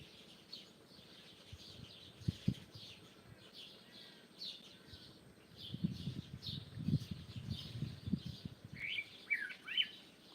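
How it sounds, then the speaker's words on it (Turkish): A nightingale sings quietly at a distance, short chirps and warbling phrases repeating over a soft low background with occasional muffled knocks. "Evet bu ses bülbül sesi"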